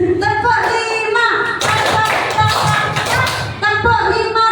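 Hands clapping in a counted clap game, the claps coming as a burst of sharp thuds in the middle of the clip, framed by a speaking voice before and after.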